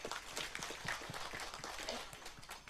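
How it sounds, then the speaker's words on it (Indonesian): Quiet, brisk clapping from an audience at a Javanese wayang kulit performance event, a short patter of scattered hands at a distance. "alhamdulillah, tepuk tangan sedoyo."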